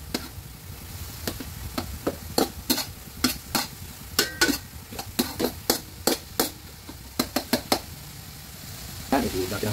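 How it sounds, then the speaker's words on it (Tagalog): Chopped onion and garlic being sautéed and stirred in a pan, with repeated sharp scraping strokes of a utensil over a steady low sizzle, close and moderately loud. "Yan, hulog na natin ang sibuyas. Tulad natin ang bawang."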